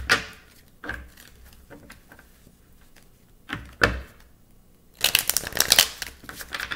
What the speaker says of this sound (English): Get a good shuffle in.